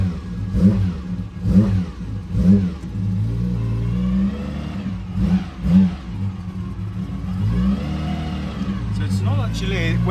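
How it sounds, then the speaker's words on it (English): A classic car with a bare, stripped interior and harness belts fires up, its engine cranking and catching, then revving in several rising bursts before settling into a loud, rough idle, with someone talking over it. "Okay, let's fire it up."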